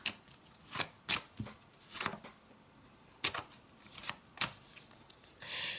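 A deck of playing cards is handled and shuffled at close range, with quick riffling bursts and soft cut-and-slap sounds arriving in an irregular rhythm, fairly quiet against a still background.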